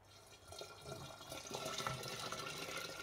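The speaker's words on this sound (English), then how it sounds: "I'm gonna fill it up with the rest of the water." Water poured from a tap into a vessel for brewing ginger beer at home, a soft, close rushing fill that grows slightly louder as it continues.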